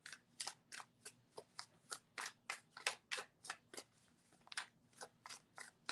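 Tarot cards being shuffled by hand, a rapid series of crisp riffling snaps in quick irregular bursts, close and fairly quiet with no talking.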